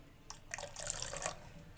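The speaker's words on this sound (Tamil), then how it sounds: "இன்னும் கொஞ்சம் தண்ணி ஊற்றிக்கலாம்." Water poured into a pan while making maida halwa, a short, faint trickle and splash of liquid lasting about a second, heard alone in a quiet kitchen.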